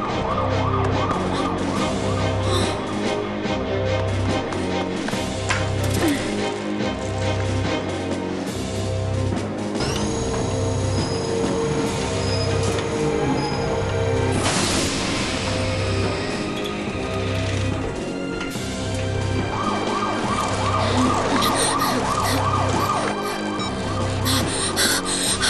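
A cartoon ambulance siren wails in a repeating two-tone cycle over a busy animated soundtrack of music and effects, fairly loud throughout with a burst of noise partway through.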